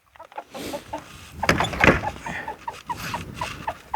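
Chickens cluck around a coop as feed is handed out, a busy close chatter of short calls with a few rattling knocks mixed in.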